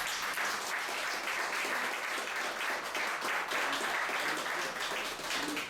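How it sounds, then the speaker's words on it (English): A seated audience at a community candidates' forum in Brunswick, Georgia gives steady applause, many hands clapping evenly at a fairly low level for several seconds with no talk over it. "so let's give her applause."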